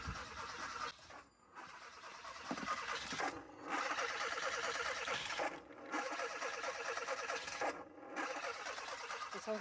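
A Hyundai engine cranks on a dying battery: faint, labored starter churning in several bursts separated by short pauses, without catching.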